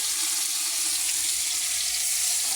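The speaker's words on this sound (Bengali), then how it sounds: "এই যে তেল দিয়ে দিয়েছি, ভাজবো কিছুটা" Chanda fish fry in hot oil in a pan, making a steady, dense hiss of sizzling that stays even and close throughout, with no voices.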